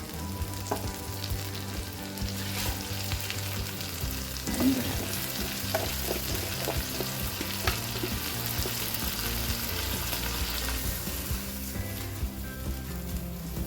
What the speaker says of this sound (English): give it a very good stir fry before you add the rice